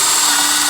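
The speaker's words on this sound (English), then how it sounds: "I had to drill a hole in the middle for the wires for the camera to go through." A power drill bores a hole for camera wiring on a Jeep Wrangler during a third brake light install, giving a loud, steady whirring grind for under a second.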